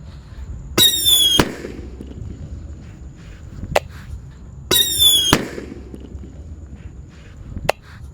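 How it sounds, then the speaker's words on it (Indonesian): A Happy Power 3 firecracker set off under a cooking pot bursts twice in quick crackling volleys with whistling streaks, each followed a few seconds later by a sharp single crack, against a quiet outdoor background. "Ini yang akan kita nyalakan, mercon happy power 3"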